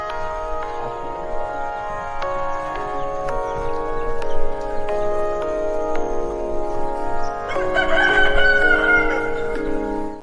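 A rooster crows inside a show intro jingle, loud and prominent over steady musical tones, with a brighter burst near the end.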